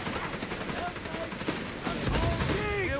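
Heavy machine gun fire in Company of Heroes 3 amid wartime game combat, rapid bursts of gunfire over a busy battle din with shouted voices in the mix.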